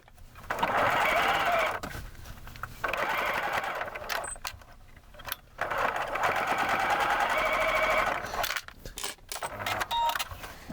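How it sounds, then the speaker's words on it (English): A sewing machine bastes cording into a decorator pillow, running in several bursts of steady rapid stitching separated by short pauses and small handling clicks. "We're still doing a baste and we're still sewing away from that cord."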